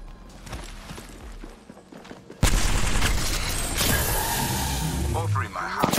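Heavy gunfire in an Apex Legends match: a sudden loud burst of rapid shots erupts and continues as dense, sustained firing, with a voice speaking over the clatter.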